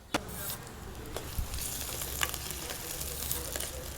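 Onion frying in a pan on a cooking show, giving a steady soft sizzle with scattered crackles and a few sharp clinks of a spoon against the pan.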